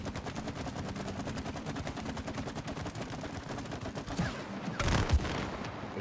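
Rapid automatic video-game gunfire sprays at a wall in sustained, evenly spaced bursts, growing louder with heavier impacts near the end.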